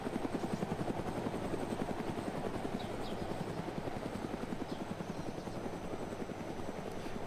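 Helicopter in the Arma 2 DayZ mod video game flies steadily nearby, its rotor chop pulsing continuously and loudly throughout with no voices present.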